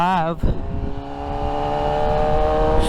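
A car engine revs down through a downshift with no braking, a short blip followed by a steady, rising engine tone up close, with a voice speaking briefly at the start.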